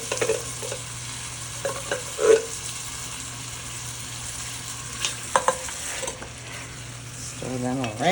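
Kielbasa pieces sizzle in a pan indoors, a steady quiet frying hiss punctuated by a few sharp clinks and scrapes as they are stirred around, with a faint voice briefly near the end.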